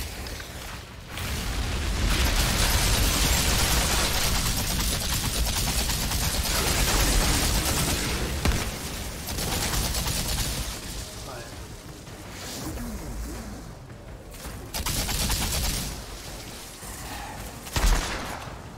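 Dense, continuous gunfire from the shooter game Outriders rattles loudly for most of the stretch, with brief lulls and a sharp burst near the end, mixed with someone talking.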